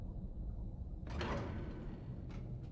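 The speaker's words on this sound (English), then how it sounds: "Let me get the door." A door opening in Skyrim, heard alone at low level: a sudden scraping slide that swells and fades over about half a second, followed by a couple of faint later knocks.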